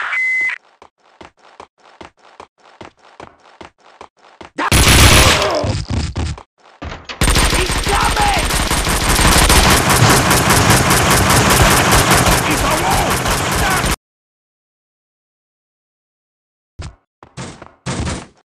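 Gunfire in the video game Max Payne 2: rapid sharp shot bursts and dense loud volleys, with pauses and a short burst near the end, mixed with game sounds.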